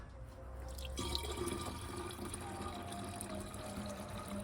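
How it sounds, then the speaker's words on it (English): Plain water poured into a Ford 5.4 engine's coolant reservoir: a steady, close trickle and splash running continuously at low level, with no talking. "This is just water I'm pouring in here."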